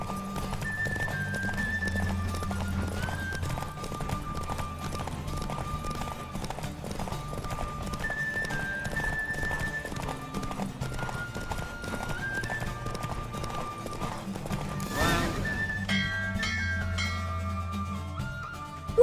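Galloping horse in a race in The Witcher 3, hooves drumming in a quick steady rhythm under game music, with brief whinnies and a rising burst near the end as the race closes.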